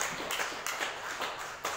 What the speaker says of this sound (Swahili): Mpigie Bwana makofi mazuri.